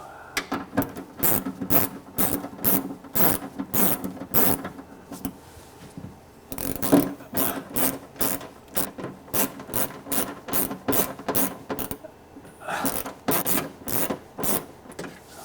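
A ratchet wrench loosens a small bolt from underneath the license plate area of a Mercedes W203 C-Class tailgate. Rapid, repeated clicking bursts come close up, with brief pauses between them.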